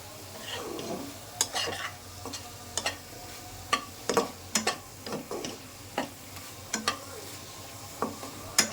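Kuli pitha frying in hot oil, with a soft steady sizzle beneath repeated sharp clicks and taps of a utensil stirring and turning the dumplings in the pan, close and fairly quiet.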